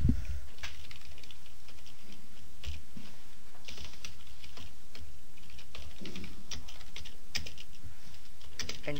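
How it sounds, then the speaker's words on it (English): Rapid, steady typing of HTML code on a computer keyboard in Notepad, close and continuous with dense clicking keystrokes over a faint background hum, no voices. "open up Notepad and start typing some HTML code."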